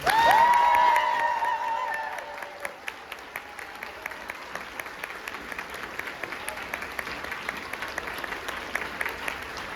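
Applause from a youth conference opening ceremony crowd, beginning loud with a brief burst of cheering and a tonal whistle or shout, then thinning into scattered, slowing claps that fade over several seconds.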